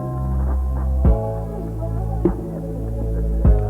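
Electric hair clippers held at an angle during a taper fade haircut give a loud, steady buzzing hum close up, with a few brief bumps and thuds as the blade moves against the head.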